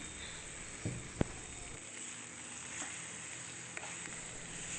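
Chicken frying in a pan with ginger, garlic and green chillies, a faint steady sizzle throughout with a couple of soft knocks and stirring touches, close but quiet, no voices.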